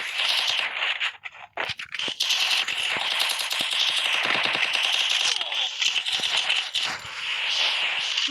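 Rapid gunfire in a mobile shooting game, dense bursts of rattling automatic shots with brief pauses between volleys, loud and continuous over a bright electronic backdrop.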